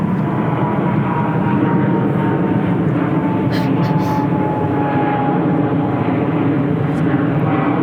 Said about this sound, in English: You know Tom can actually name what kind of plane that is?